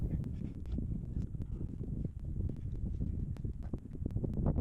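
Wind buffets the microphone during a Royal Enfield Himalayan motorcycle ride, a continuous low rumbling roar with soft gusty fluctuations and faint ticking, with no talk.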